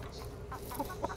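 Short soft clucks come from a large gamefowl rooster in a cage, with a couple of brief calls standing out near the end.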